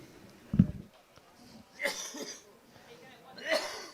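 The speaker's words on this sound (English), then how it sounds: "And then he coughs." A single sharp cough up close, followed by two rougher throat-clearing bursts spaced apart, with quiet background noise between them.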